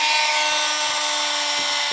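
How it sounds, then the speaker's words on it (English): Oscillating multi-tool cutting through the plastic rear bumper of a 2017 Subaru Outback wagon, a steady high buzzing whine held throughout with a faint tonal hum beneath and no talking. "now we're going to use a multi-tool in order to cut it out."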